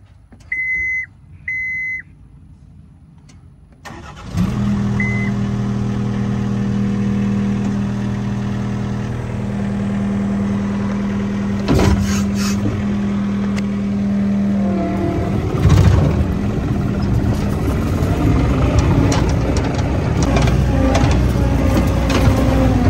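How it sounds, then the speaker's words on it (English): Skid steer tractor engine starting and running, a few beeps first, then a steady loud diesel drone that idles evenly and rises toward the end, close by with no talk. "So I'm going to use the tractor, the skid steer, to move all of that dirt"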